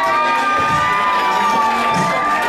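Wrestling arena crowd cheering and shouting steadily throughout, a dense roar of many voices including high-pitched children's yells, loud and sustained without a break.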